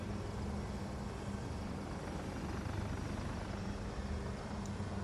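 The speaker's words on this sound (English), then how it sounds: "Is that an attack helicopter?" An attack helicopter in the video game Battlefield 2042 produces a constant, even rotor and engine drone that holds steady at moderate volume throughout, with no talk.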